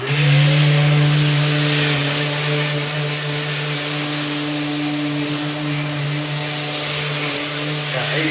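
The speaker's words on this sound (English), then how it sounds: "Sanding session right now." A power sander with 80 grit sandpaper runs on wood in a steady, loud whine with a constant tonal drone, close up and continuous, with music faintly playing underneath.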